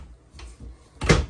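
A deep drawer or cupboard in a 2024 Grand Design Transcend Xplor 221RB travel trailer slides and shuts, a soft early movement followed by a louder close thump, near and alone.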